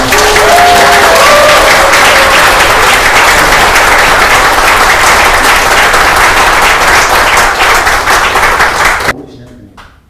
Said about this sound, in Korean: 여러분 뜨거운 박수를 한번 보내주시기